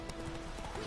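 Horse hooves clip-clop in The Witcher 3 gameplay, a brief, faint burst of rhythmic hoof beats over a steady background hum.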